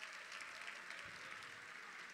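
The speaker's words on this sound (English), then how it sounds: "Please, a nice round of applause in honor of them." An audience at an awards gala applauds, a soft, distant, continuous wash of many hands clapping, evenly sustained and faint throughout.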